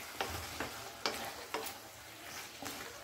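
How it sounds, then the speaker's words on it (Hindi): Red chilli powder and spices cook in a pan for a pumpkin curry made without onion or garlic. A steady, quiet sizzle runs underneath, while a spoon stirs with soft, periodic scrapes and knocks against the pan. "लाल मिर्च पाउडर, ये सारा डाल के मैं इसको अच्छे से पका लूंगी।"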